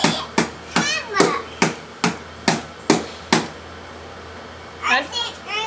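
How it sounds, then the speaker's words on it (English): A child hammers on a toy tractor, about ten sharp evenly spaced knocks in a row, then a pause and a few more taps, with a voice briefly audible near the end. "Oh yeah, I need the hammer."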